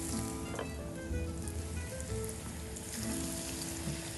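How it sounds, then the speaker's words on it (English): Lightly breaded veal sizzles in a hot sauté pan, a steady, fairly quiet hiss and crackle that continues under a faint hum of kitchen background noise. "you got the veal lightly breaded. We're gonna put it in our hot saute pan."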